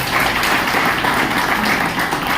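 Dense, steady audience applause at a business seminar, a continuous loud wash of many hands clapping together without pause.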